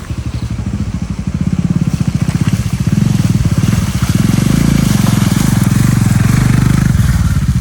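A motorcycle engine runs steadily close by, a loud throbbing idle that swells slightly partway through and holds, with no talk over it.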